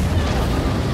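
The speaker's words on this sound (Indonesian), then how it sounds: "Saat tabung itu meletus dalam ledakan besar" A canister bursts in a large explosion amid fire, heard as a loud, dense roaring rumble that fills the whole second without letting up.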